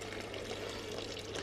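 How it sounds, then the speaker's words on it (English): Cold water pouring in a steady, continuous stream, close and fairly quiet, with a low hum underneath and no talking. "I just take some water."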